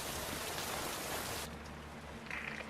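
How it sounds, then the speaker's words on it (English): Heavy pouring rain on an outdoor street hisses loud and steady, with no voices, then eases slightly to a softer wash partway through. "Georgie wants to sail it outside in the pouring rain"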